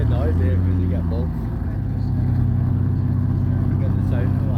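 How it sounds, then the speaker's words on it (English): Car engines rev at the 2022 Lytham Car Show with a loud, sustained rumble that holds throughout. People talk nearby over the engine noise. "You get the sound of like 3 engines"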